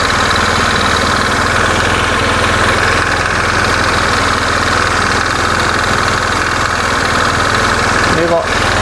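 A carbureted Honda Beat motorcycle engine idles after a throttle adjustment, a loud, steady, close putter with a low rumble and slight vibration throughout.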